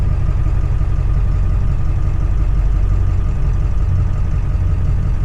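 A small 238cc engine on a four-wheel-drive vehicle running with a loud, steady low rumble and a constant idle drone, close by and unbroken throughout.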